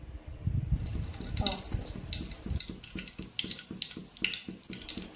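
Mustard seeds crackle in hot oil before onions go in, a rapid run of sharp close pops over a steady frying hiss that grows more regular as it continues.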